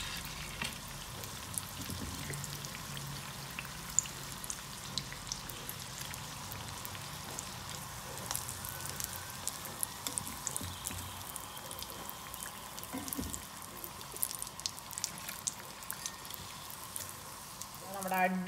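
Egg pockets deep-frying in hot oil, giving a soft, steady bubbling crackle with scattered pops at moderate distance, ending in a brief louder rustle.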